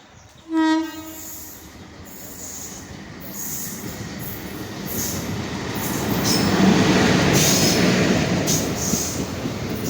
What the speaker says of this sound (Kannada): ಇವಾಗ ಇನ್ನೇನು ಕೆಲವೇ ಟೈಮಲ್ಲಿ ಟ್ರೈನ್ ಬರುತ್ತೆ ನೋಡಿ.